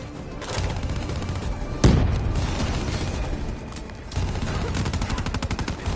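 A grenade goes off in a video game firefight: a sharp booming blast cuts through continuous rapid gunfire, which keeps crackling and bursting loudly before and after it.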